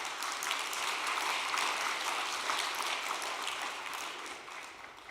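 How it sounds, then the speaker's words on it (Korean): A congregation claps in thanks during an overnight worship service, a steady, dense wash of applause that holds evenly and thins slightly toward the end. "우리 감사의 박수를 올려드리겠습니다"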